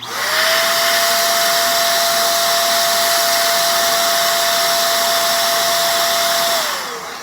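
A corded electric air duster running on its high setting gives a loud, steady, high-pitched whine with rushing air. It spins up, holds constant for several seconds up close, then winds down at the end.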